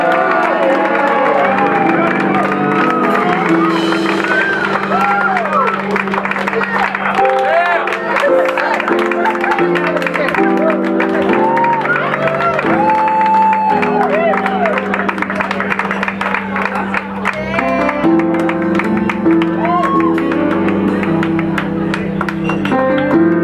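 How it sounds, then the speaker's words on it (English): Audience applause and cheering for a female singer at a live performance in San Diego, a steady loud wash of clapping and crowd noise that runs throughout, blended with tonal music and voices. "I want you to give her a warm, strong, loud applause, ladies and gentlemen"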